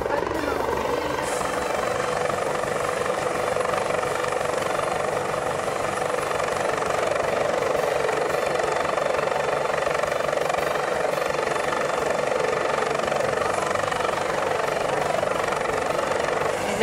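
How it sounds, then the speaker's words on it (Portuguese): A helicopter comes in to land very close during a disaster-prevention rescue drill in Japan, its rotor roar and gusting wind a loud, continuous wash of noise that holds steady throughout. "é a primeira vez que eu tô tão perto de um helicóptero que vai pousar, eu acho, fazendo vento pra todo lado aqui"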